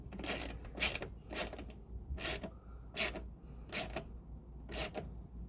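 Hand ratchet driving screws into a plastic dashboard housing on a 1987 Corvette C4, seven or eight short, evenly spaced ratcheting bursts, close and clear, with no voices.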